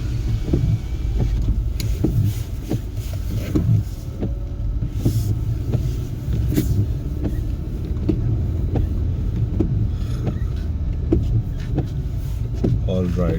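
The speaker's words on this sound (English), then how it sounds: "snow is falling on the top of the car" Snow falling on the roof of a parked car, soft scattered taps and thumps against a low steady rumble, with a voice talking over it.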